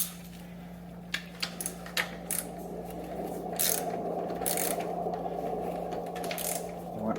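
A ratchet wrench tightens the rear 19 mm bolt on an EVOLV Pro electric scooter during suspension work, with a series of close clicking pawl strokes over a steady low electrical hum, quickening into faster ratcheting, and no talk.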